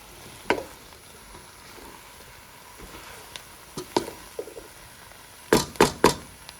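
Spiced potatoes and cauliflower for aloo gobi sizzle faintly in a pan while a spoon scrapes and knocks against the metal, a few sparse taps early and then a quick cluster of louder strokes near the end.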